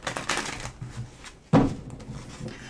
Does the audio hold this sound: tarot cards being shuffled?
yes